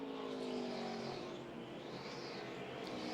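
NASCAR Nationwide Series cars running a practice session at Phoenix, engines droning steadily at a distance with pitch rising and falling as cars circulate, a continuous loud roar with no talk.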